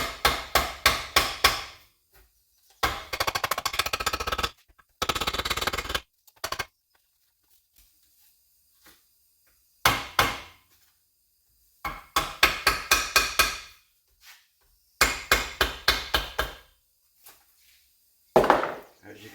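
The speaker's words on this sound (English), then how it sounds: "Just take a hammer along the perimeter and start hitting it." A hammer strikes repeatedly around the edge of a pump gasket, in quick bursts of sharp, close taps separated by pauses.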